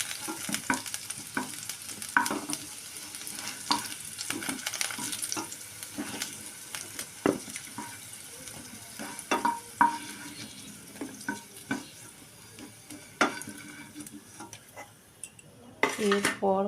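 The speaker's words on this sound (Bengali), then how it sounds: "আলুগুলোকে লাল লাল করে ভেজে নিচ্ছি।" Potatoes fry in oil in a pan under a constant sizzle, punctuated by frequent sharp clinks and scrapes of a spatula against the metal, loud and close, with no talking.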